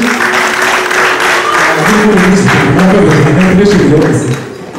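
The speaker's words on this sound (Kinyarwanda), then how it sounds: "Amena amumera amashyi" Sustained clapping from a wedding crowd fills the room, dense and steady, with murmuring voices mixed underneath before it thins out near the end.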